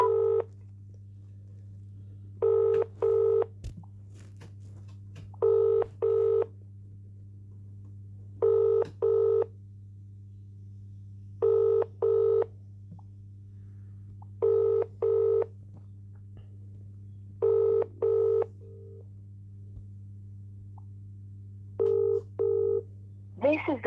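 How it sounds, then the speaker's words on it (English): A mobile phone call rings repeatedly in a steady double-burst pattern over a constant low hum. "Ringing up Christopher Browell."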